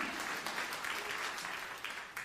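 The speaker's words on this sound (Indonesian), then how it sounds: "Yang percaya tepuk tangan yang meriah kemuliaan Tuhan." Worshippers in a church break into lively applause, a continuous fairly distant patter of many clapping hands with a few sharper claps standing out, and no one speaking over it.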